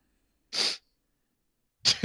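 Two short, sharp sniffles or sneezes, one near the start and one at the end, each a quick breathy burst separated by silence, close and fairly loud.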